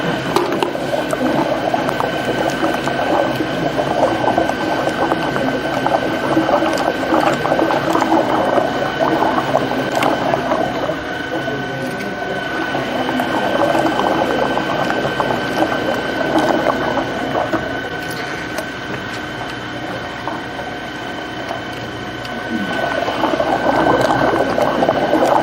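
An ice cream machine churns a batch of tiramisu ice cream, giving off a steady, continuous mechanical whir with a wet, squishy texture and faint ratcheting clicks. It runs at an even level from start to finish with no talking.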